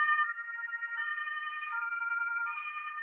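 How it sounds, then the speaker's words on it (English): An ambulance siren wailing steadily in the distance outdoors, a clear alternating electronic tone sustained for several seconds with no talk over it. "Oh, there's an ambulance."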